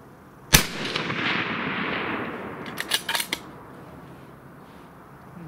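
A single sharp crack from a 6.5 Creedmoor Savage 12FV bolt-action rifle on a shooting range, loud and close, followed by a long rolling echo and a few fainter clicks.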